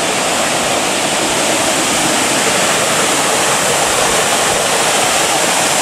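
A large, unswimmably powerful waterfall at Lake Waikaremoana in Te Urewera Forest roars continuously and loudly nearby, a dense unbroken wash of falling water with no voices.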